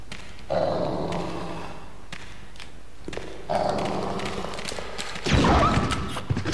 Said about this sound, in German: Wow, zwei Hunde?